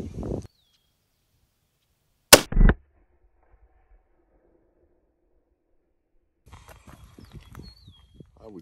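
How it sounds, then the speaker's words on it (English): A 35 Remington rifle fires a single sharp, loud shot in an otherwise quiet outdoor setting, with a brief echo after it. People talk before and after the shot. "I'm gonna shoot one more before we go down there."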